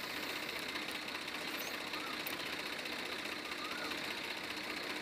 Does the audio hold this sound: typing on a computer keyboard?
no